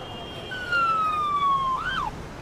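An ambulance siren in the Emergency 4 video game, a single long descending electronic wail followed by a brief rising and falling whoop, over a low ambient background.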